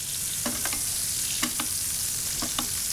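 Steak searing in butter with chopped thyme in a pan: a steady close sizzle and crackle carries throughout, with a few short clinks or stirring taps breaking in at intervals.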